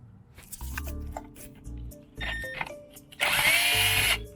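A power drill being used while working on a 50cc two-stroke race bike, whirring in short bursts with handling clatter between, ending in a louder, sustained run close by.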